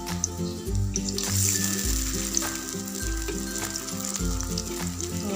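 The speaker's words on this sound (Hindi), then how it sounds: "अब हम फ्राइंग स्टार्ट करते हैं।" Potato pakoras coated in a thin gram flour batter fry in hot oil, giving a loud, steady sizzle with bubbling crackle, while a stirring sound repeats every second or so.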